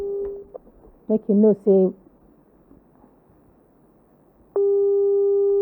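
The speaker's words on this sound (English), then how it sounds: "his number is ringing." Phone ringback tone heard while placing a call: a steady electronic tone at the start, then a brief voice, then quiet line noise, and the tone returns loud and sustained near the end.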